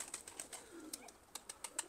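Pigeons in a loft give soft, low coos amid quiet, repeated high chirps and ticks, faint and fairly close.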